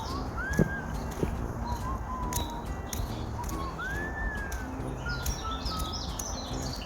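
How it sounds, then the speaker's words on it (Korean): Mountain birds sing and chirp in a forest after rain, with rising whistled calls and scattered tweets over a steady outdoor background, plus a few faint footsteps. "오늘따라 유난히 산새 소리가 온 산을 즐겁게 하는군요."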